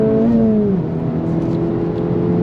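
A 2024 Acura Integra Type S engine revs up under throttle, its rising harmonic tone climbing then settling into a steady, loud drone with slight rev hang, close and continuous with no talk.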